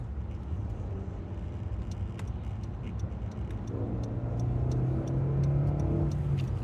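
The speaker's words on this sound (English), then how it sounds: "You hear that fucking acceleration, boy?" A car engine hums steadily, then rises in pitch and loudness as it accelerates, with faint clicks and rattles over it.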